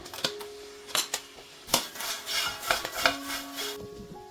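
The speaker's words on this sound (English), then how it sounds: "So adding 3 tablespoons of honey, I mix everything up." Honey being stirred into homemade popcorn in a thick, still-hot pot, heard as scattered scraping and clinking of a utensil against the metal with rustling kernels, close and moderately loud.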